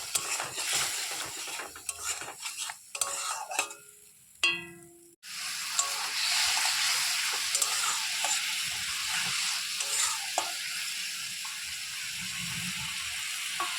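Spices with turmeric and salt sautéing in a pan, a sizzle broken by scraping and stirring clatter at first, then a short pause before a steady, loud frying hiss takes over.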